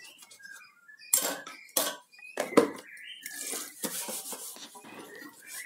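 Scrubbing and clinking of a cake-batter mixing bowl being cleaned with toothpaste, with irregular scraping bursts and occasional knocks close by, fairly quiet with no talk.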